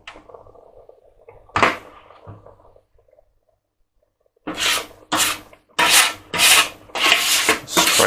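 Sugar scraped into a pot for homemade blackberry jam: a few soft scrapes early, then a run of loud, close, broadband rasping strokes in quick succession, with no talk.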